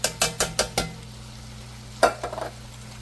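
A spoon stirs diced roasted garlic tomatoes into oxtail stew in a pot over medium-high heat, giving five quick, evenly spaced scraping knocks, a pause, then a louder scrape and a few lighter taps over a low background hum.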